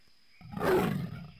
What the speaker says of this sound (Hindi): तेंदुए के गुर्राने की आवाज है।